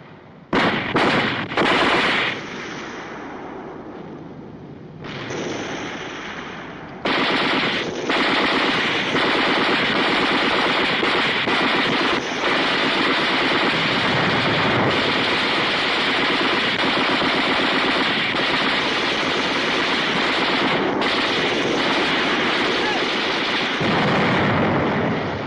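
A gunfire volley in an action film, with sustained rapid machine-gun fire and explosions that stay loud and dense for most of the stretch. Brief lulls break up the firing.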